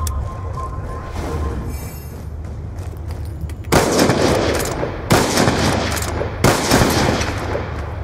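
Black Ops 2 gunfire in a 1v1 match: quieter shots at first, then three loud, dense automatic bursts ring out, each followed by a short lull.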